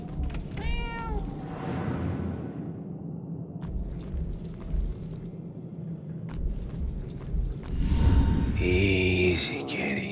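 Cat meowing in the Murdered: Soul Suspect video game: an early drawn-out meow, then a second meow near the end, over a steady low game ambience and rumble.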